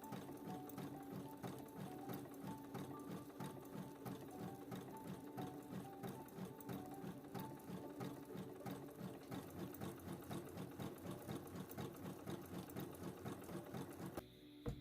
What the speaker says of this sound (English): you're going to go to the machine and you're going to zigzag stitch along the edge of your new cut seam